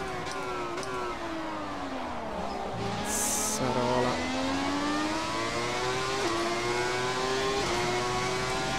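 A 1995 Ferrari 412 T2 Formula One car in the F1 2017 video game, its high-pitched engine revving up and down steadily through gear changes, loud and continuous with brief shifts in tone.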